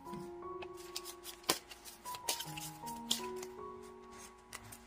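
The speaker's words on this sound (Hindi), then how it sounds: "तो शुरुआत करते हैं कार्ड शफल करके।" Tarot cards being shuffled by hand in a quiet room, a soft rustling riffle with scattered sharp flicks and taps throughout, close and moderately quiet with no talking.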